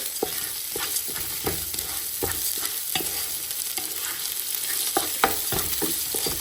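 Rice frying in a pan for vegetable biryani, stirred constantly, with repeated scraping strokes over a steady sizzle, close and moderately loud.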